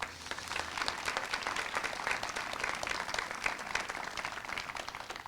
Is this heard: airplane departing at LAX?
no